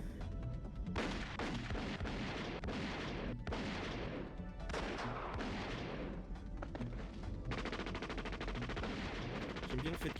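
Action film gunfire from a low-budget movie, with rapid bursts of machine-gun fire and single shots rattling in clusters across the scene, loud and dense, with some voices underneath.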